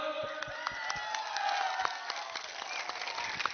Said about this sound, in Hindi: सब लोग अपने लिए एक ताली दो।